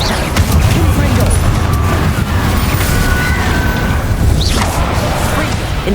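A Confringo fire spell erupts in Hogwarts Legacy, a loud, dense blast with a deep rumbling roar that holds steady throughout, thick with crackling debris and no clear pauses.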